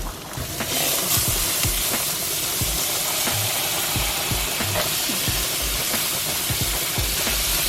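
A whole stick of butter and garlic sizzling in a pan over medium heat: a loud, steady frying hiss with faint clicks and stirring knocks throughout.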